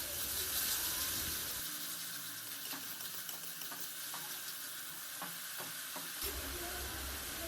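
Spice paste with yogurt frying in oil sputters and sizzles in a soft, continuous hiss, with scattered light stirring clicks throughout.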